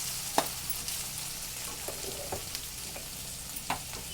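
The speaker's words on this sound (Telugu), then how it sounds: "చూసారా ఎలా వేగిపోయిందో" Okra frying in a pan, a steady soft sizzle with occasional scrape-and-stir clicks from a spatula, close and alone with no voices.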